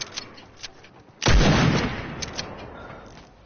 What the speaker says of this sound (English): I don't. I got a pistol out.